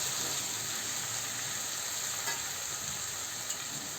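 Steamed sprouts and potato are stirred in a pan, producing a continuous soft sizzle with faint occasional scrapes of the spoon, close and quiet.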